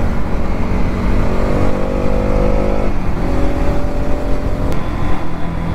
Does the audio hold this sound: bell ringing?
no